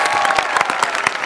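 A live audience at a Marathi comedy stage show breaks into a short burst of dense clapping, steady and moderately loud throughout.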